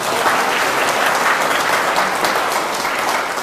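A crowd at a yoga class bursts into steady, dense clapping that fills the whole stretch at an even level, with no voices on top.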